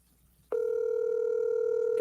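A telephone call goes unanswered: after half a second of quiet, a loud, steady electronic tone sounds on the line and holds without a break.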